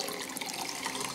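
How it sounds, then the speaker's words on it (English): Tap water running over a Bluelab pH pen probe as it is rinsed, a steady close splashing stream that holds without a break. "Give it a rinse with fresh clean tap water"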